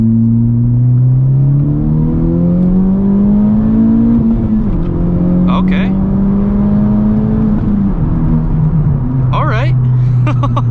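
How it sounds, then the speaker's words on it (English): A 2019 Honda Civic Type R pulls hard from inside the cabin, engine note climbing and dropping across gear shifts with sharp little crackles around the changes; a few words are spoken briefly over the loud drone. "Did you hear that pop when I shifted out of second into third?"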